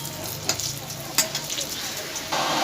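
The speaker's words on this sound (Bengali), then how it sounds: "এবারে আমি পটলের দরমা করার জন্য পটলগুলো ভেজে নেব।" Vegetables frying in hot oil and being stirred in a pan, a continuous loud sizzle broken by sharp scraping clicks of the spatula, close and without talk.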